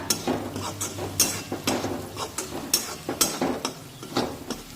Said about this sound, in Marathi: आता हे मसाले तेलामध्ये छानपैकी परतून घेऊया